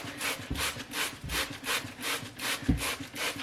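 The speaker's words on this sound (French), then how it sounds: "En attendant, je vais déjà nettoyer la brosse." The brush of a Dyson vacuum cleaner is scrubbed by hand, producing a rhythmic back-and-forth bristly rubbing heard close up, about eight strokes in a steady cadence, quiet and with no talk.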